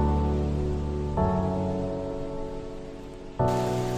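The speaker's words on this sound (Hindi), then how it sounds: "अभी रहमान छतरी लेने गया है कैमरा को छुपाने के लिए बारिश से" Steady rain pours down outdoors, a continuous dense hiss with abrupt shifts in level as the nearby patter changes.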